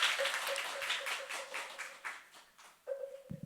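Audience clapping after a youth-group Dharma service at Jogyesa temple, sustained for a couple of seconds and then tapering into scattered claps, with a short renewed burst near the end.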